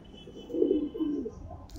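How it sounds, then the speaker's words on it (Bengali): Madras pigeons, kept as home flying birds, give two soft rolling coos close by, each a short throaty burst against a quiet background. "হ্যাঁ, এই সব আমাদের বাড়ির উড়ানো পায়রা"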